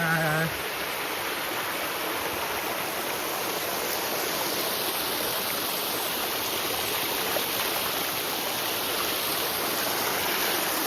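A hidden waterfall and stream rush continuously, loud and close, with a dense, unbroken roar that stays steady throughout.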